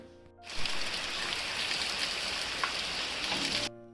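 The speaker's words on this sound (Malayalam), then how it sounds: "അങ്ങനെ പുറത്ത് നല്ല മഴയാണ് കേട്ടോ." Heavy rain pours down outside, a dense, steady hiss that begins suddenly, holds evenly at full strength for about three seconds, then cuts off abruptly.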